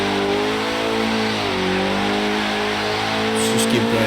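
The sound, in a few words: Porsche 944 Turbo engine while driving in the video game Forza Horizon 3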